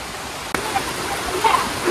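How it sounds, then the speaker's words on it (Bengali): Heavy village rain pours in a broad, constant wash of noise, with a brief sharp knock early on and the downpour swelling slightly louder toward the end. "বৃষ্টি আস্তে আস্তে আরো বেশি বাড়তে আছে।"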